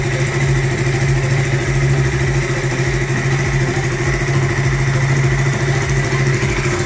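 A KTM RC sport motorcycle idles steadily up close, its engine giving a constant, even burble that stays at one level for the whole stretch with no revving and no talking.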